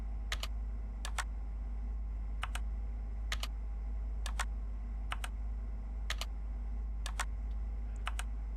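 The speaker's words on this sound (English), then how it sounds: "Keep typing." Keystrokes on a computer keyboard come in short bursts of two or three clicks, spaced about a second apart, fairly close and clear over a steady low hum, with no talk.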